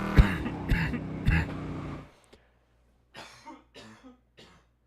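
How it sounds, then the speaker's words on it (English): Several loud, harsh coughs close to the mic, then after a short pause a few softer, rasping coughs trailing off into quiet. "I was having a coughing fit there."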